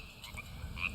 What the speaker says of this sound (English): serenaded at evening tide by our little Pacific tree frog